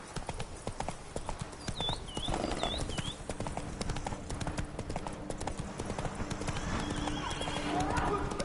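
Roach the horse from The Witcher III trots with rhythmic hoof clip-clops and lets out a couple of high whinnies early on, set against game ambience with a voice.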